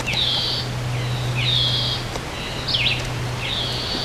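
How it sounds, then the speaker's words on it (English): An unidentified bird calls from trees, repeating a clear high whistled note in spaced phrases about every second, loud and near over a steady low hum. "I'm not sure what type of bird that is"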